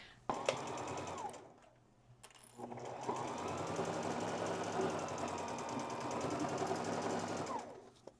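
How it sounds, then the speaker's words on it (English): A sewing machine runs in two close, steady stitching bursts separated by a short pause, its rapid mechanical whir sewing through shirt fabric to make a pillow. "Lower the presser foot and then keep sewing."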